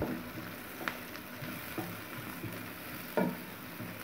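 Onions frying to golden brown in a pan give a soft, low sizzle with occasional faint clicks of stirring, quiet and steady throughout.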